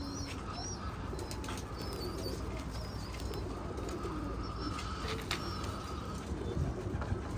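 Several pigeons take off with a flurry of flapping wings amid soft cooing, over a steady outdoor background hiss.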